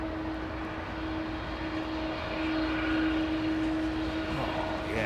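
An airliner rotating on takeoff with flex (reduced) thrust from runway 09R at Heathrow, a steady loud engine roar with a sustained tonal whine, close and continuous, alone without talk.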